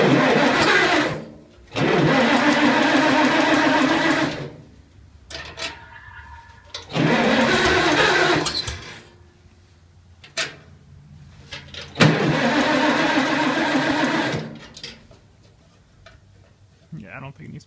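A Farmall Cub tractor with a newly fitted Pertronix ignitor and a low battery cranks loudly in three long bursts separated by pauses, the engine churning hard but not clearly catching, with faint clicks between attempts.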